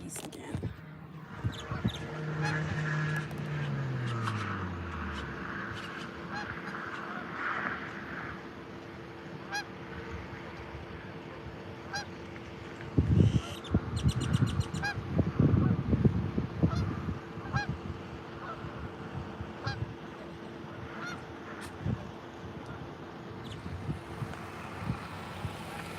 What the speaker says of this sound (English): the geese again.